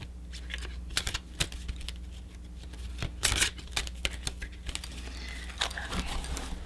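Garfield tarot cards are shuffled up close in a quiet room, with soft riffling bursts and crisp flicks of card stock coming in irregular clusters, one louder flurry in the middle.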